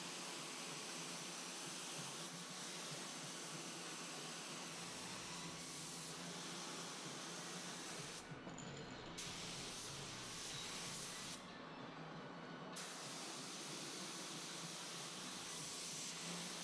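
Spray gun laying clearcoat on a new panel, an Atom X21 or X27, giving a continuous loud close airy hiss with brief pauses between passes.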